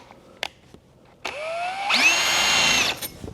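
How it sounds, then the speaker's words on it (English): A power drill spins up with a rising whine and runs loudly for about a second before winding down, with a few sharp clicks before it, drilling a starter hole in a Coke chest cooler. "we're going to drill pretty close to this line"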